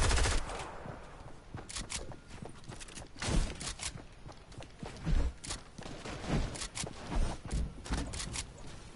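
Video game gunfire as a player is picked off by a sniper: scattered sharp shots and clattering bursts come at irregular intervals over a busy background of soft rhythmic clopping.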